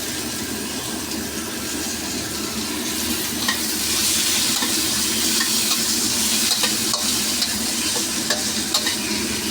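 Tomato sizzles and fries in a hot pan with ginger and red onion for sinigang, a continuous crackling hiss that grows louder partway through with occasional stirring clicks, no talking.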